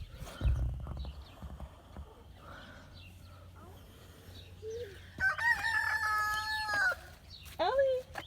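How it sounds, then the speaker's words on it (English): A rooster crows loudly near the end, with scattered hen clucks and rustling in a barnyard beforehand, then a second crow cuts in briefly. "This rooster is very aggressive."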